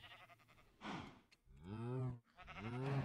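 A Minecraft blazing cow gives a pair of drawn-out, bleating moos after being hit by a player, close and clear with a short pause between them.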